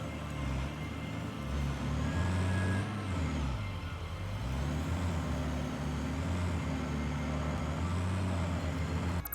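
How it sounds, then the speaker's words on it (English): Trucks from the factory-building game Satisfactory drive with a steady, low engine rumble whose pitch rises and falls as they move, heard alone and moderately loud throughout. "we try out our newly unlocked trucks"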